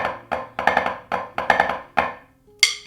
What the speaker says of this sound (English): The rudiment basically goes padada right flam,